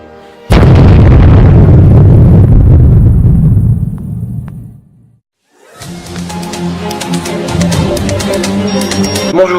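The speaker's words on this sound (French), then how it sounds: "Je vais tout faire exploser." Explosion sound effect: a sudden loud boom with a long rumbling, crackling decay that fades into a brief silence, followed by a renewed wash of debris-like crackle and noise.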